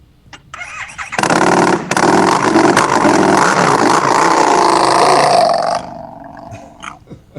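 A motorcycle engine cranks and fires up at a rally and show, then roars loudly and steadily for several seconds before fading as the bike rides off.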